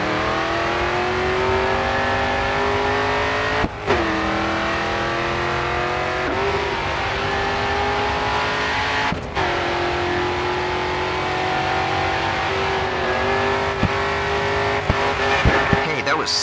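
A race car's engine held at full throttle on the Riverside, Chicago street circuit in the Grid 2 racing game: a loud, continuous high-revving whine rising in pitch, cut by brief gear-shift dips, with faint tire noise near the end.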